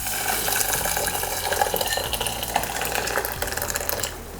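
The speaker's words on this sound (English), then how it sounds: "I'm gonna just pour over the boiled water." Boiled water is poured over rice in a pot, a continuous splashing and gurgling pour lasting a few seconds before stopping, with no voices.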